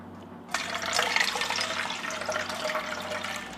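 Water poured into a potted plant, a sudden, steady splashing and trickling stream that starts after a brief quiet moment and keeps running close by.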